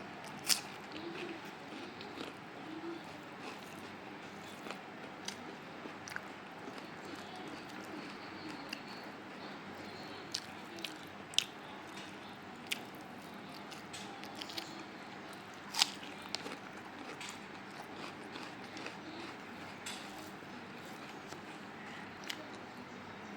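Rice with beef and onion being chewed and eaten up close, with soft wet biting and squishing sounds repeating throughout, small crunchy clicks scattered over a steady low background, no talking.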